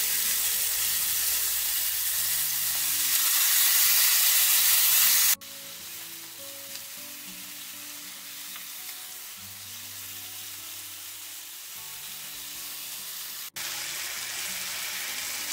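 Beef fillets sizzle in a hot frying pan with a loud, bright hiss that drops to a quieter, steady crackle partway through, with no voices.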